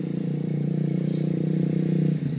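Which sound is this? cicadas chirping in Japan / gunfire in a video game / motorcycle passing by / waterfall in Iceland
motorcycle passing by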